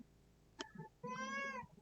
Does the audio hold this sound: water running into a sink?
no